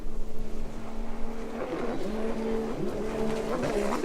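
Eric Francis's No. 109 racing powerboat runs past with a rising, shifting engine whine, loud and close, pitch sweeping up and down as it works through the course.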